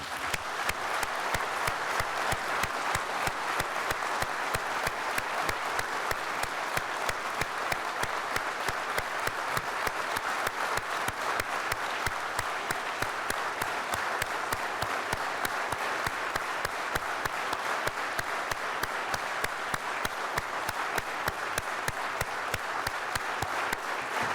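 An audience at the Shevchenko Prize ceremony gives sustained, dense applause, a steady wash of many hands clapping that continues evenly for over twenty seconds without a break.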